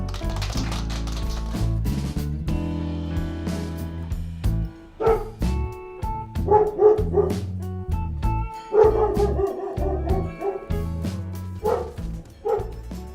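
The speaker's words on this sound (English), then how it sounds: "Up next is the Work It office dog, Ballard Barkley." An office dog barks in a run of short, repeated yaps over loud, continuous music, with the barks clustering in bursts partway through.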